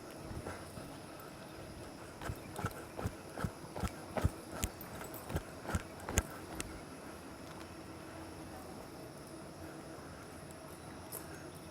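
Hooves of a cutting horse working cattle in an arena, a run of clip-clopping beats that quickens and grows louder mid-stretch, then fades into steady background noise.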